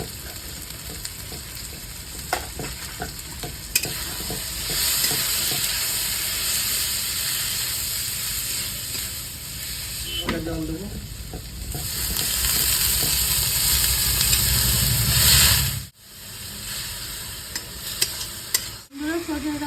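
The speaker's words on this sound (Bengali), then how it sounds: "এবার তুলে নেব পেঁপেটা ভেজে" Papaya pieces fry in hot oil with a steady, loud sizzle and hiss, stirred now and then with scraping clinks, the sizzle swelling and easing before a sudden brief drop near the end.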